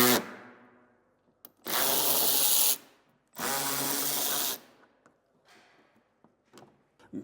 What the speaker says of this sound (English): we need to go ahead and remove 10 bolts from underneath the vehicle